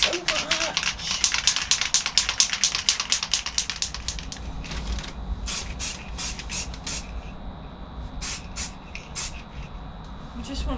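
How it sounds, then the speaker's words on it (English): Spray paint cans are shaken hard for car paintwork, the mixing ball rattling in fast rhythmic bursts, then a few spaced hissing sprays follow, close and loud. "My favourite job, shaking cans."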